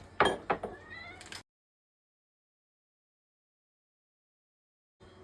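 Cats meow a few times close by as they are fed early in the morning, with light clinks mixed in before the sound cuts to silence.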